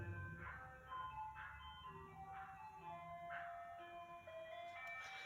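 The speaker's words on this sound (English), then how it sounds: "The ice cream truck is in the neighborhood." A tinny ice cream truck jingle plays from a distance, a repeating melody of bright electronic notes, faint but clear over quiet background.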